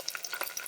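Green and red chilies hit hot oil with golden-brown onions for a dal makhani tadka, a brief crackling sizzle with sharp spitting pops.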